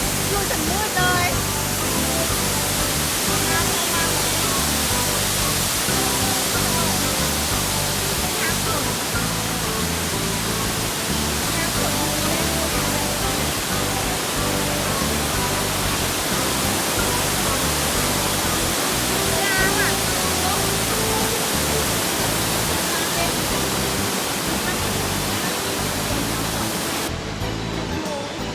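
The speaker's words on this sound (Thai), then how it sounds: "โอ้ประทับใจแหงน้ำตกแคมทาง แบบ ประทับใจน้ำตก" A roadside waterfall roars steadily as a constant, loud rush of falling water for the whole stretch, with some talking faintly under it.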